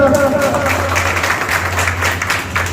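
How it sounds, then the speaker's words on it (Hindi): An audience at a speech event claps loudly, a short burst of dense applause over a steady low hum, with a voice briefly audible at the start. "तालियां बजाइए एक बार जोरदार।"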